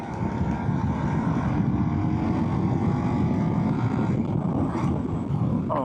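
A 2025 Indian Scout motorcycle engine pulls hard in third gear in sport mode, a loud, continuous low drone with heavy wind rush from up close, rising slightly toward the end.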